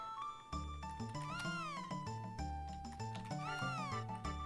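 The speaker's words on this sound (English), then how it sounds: "Oh, I found the kitty." Chiptune music plays in the retro game Chrono Trigger while a cat meows, a bright, bending synthesized whine that rises and falls twice over the steady beat of the soundtrack.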